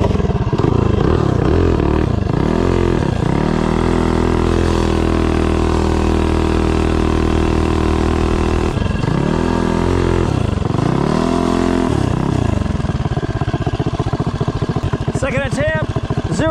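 A Tillotson 225 kart engine fitted with a PKRPM3 cam runs loud and close, revving up and down in repeated sweeps and holding a steady high drone between them, then dropping away near the end.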